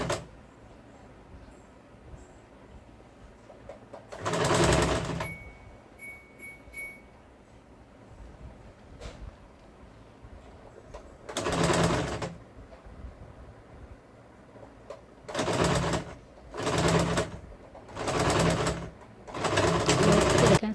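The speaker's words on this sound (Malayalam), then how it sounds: "ഇത് മറ്റേ സൈഡും ഇത് അതുപോലെ തന്നെ മടക്കി സ്റ്റിച്ച് ചെയ്യും" Sewing machine stitching a folded fabric seam on a small child's dress, running in five or six short, loud bursts separated by pauses, with faint handling noise in between.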